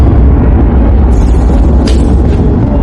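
A huge cosmic explosion effect for the birth of the Sun: a continuous, loud low-frequency rumble that roars steadily throughout, with a few hissing bursts layered on top midway.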